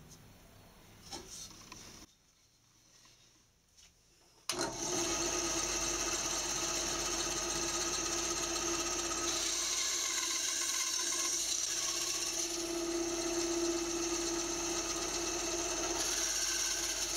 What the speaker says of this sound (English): so I'm going to cut on the bandsaw